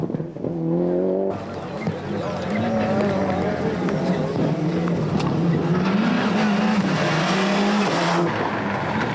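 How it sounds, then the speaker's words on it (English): A Toyota rally car races at the 1997 Ypres Rally of the European Rally Championship, its engine revving and rising in pitch as it charges past. A commentator talks over it throughout. "Henrik Lundgaard charging hard, trying to make it to Toyota 1, 2, 3."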